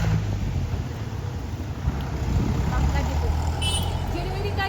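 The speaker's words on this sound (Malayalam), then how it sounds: "അമ്മാതിരത്തെ കാറ്റ്, ഒരു രക്ഷയില്ലാത്ത" Strong gusty wind at New Year festivities buffets the microphone in a continuous low roar, with a voice talking faintly beneath the rushing noise.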